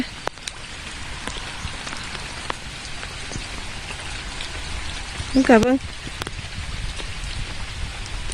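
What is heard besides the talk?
rain falling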